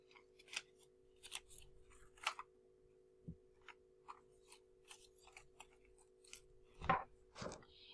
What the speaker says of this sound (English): you can fold your fraction strips